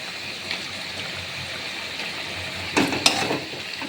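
Kashmiri chili powder and spices being stirred in a hot frying pan, a steady oily sizzle with a few louder scraping strokes near the end, no voices.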